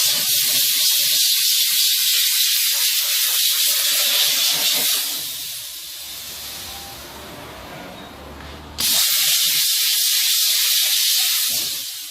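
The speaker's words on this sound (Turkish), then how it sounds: "Sadece buhar sürülüyor bak." A steam car wash machine sprays pressurized steam in a loud, close, continuous hiss that fades to a quieter rush for a few seconds before cutting back in at full strength.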